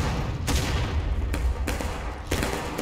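Musket volley fire in the American Civil War game War of Rights, a steady din of overlapping shots with several louder reports standing out every second or so across a continuous battlefield roar.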